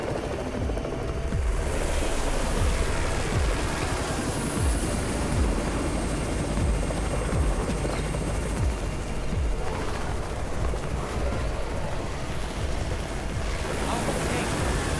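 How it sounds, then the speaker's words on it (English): Helicopter from the mobile zombie-survival game Undawn, a steady, loud rotor roar with a low thudding rumble that fills the whole stretch without a break. "It's the Raven's chopper!"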